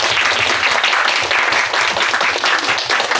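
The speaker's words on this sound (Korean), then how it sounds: "PD님한테 큰 박수 부탁드립니다" Sustained, dense applause from a film premiere audience at a screening of the movie 'Two Soldiers', loud and continuous throughout with no talk over it.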